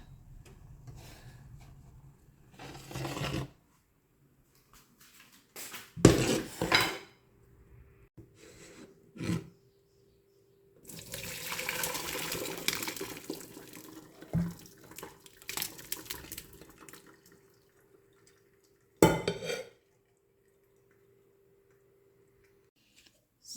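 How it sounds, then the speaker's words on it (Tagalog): Fried shrimp fritters drain in a home kitchen, with scattered clinks and knocks of dishes, short rushes of running water and quiet rustling between long near-silent gaps. "So, i-drain lang natin"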